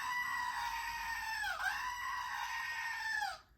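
A goat scream sound effect blares as one long, loud, wavering bleat with a sharp dip partway through, then cuts off abruptly into quiet.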